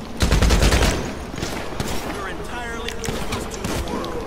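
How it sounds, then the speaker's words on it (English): Police gunfire in GTA 5 Online, a loud burst of shots up front followed by scattered crackling fire and game noise under excited talk. "Fucking cop shooting at me."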